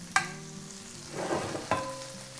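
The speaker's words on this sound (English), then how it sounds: "I'm gonna return the rolls into my pan." Polish beef rolls (zrazy) sizzle in a pan with softened onions, a steady frying hiss broken by two sharp clatters as the rolls are set back into the pan.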